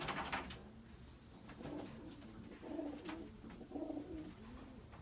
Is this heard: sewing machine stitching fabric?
no